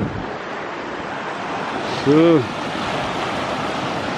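Mountain stream Gradenbach rushing through the Gradental valley in the Schober group, a steady broadband roar of water with a brief spoken word over it midway.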